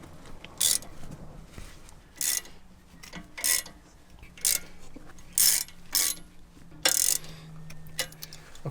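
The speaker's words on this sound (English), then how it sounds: "Let's switch over to a hand wrench." Hand wrench working a tie rod clamp on a Jeep JL Wrangler, a series of sharp metallic ratcheting clicks in short irregular bursts, close and fairly loud with quiet gaps between.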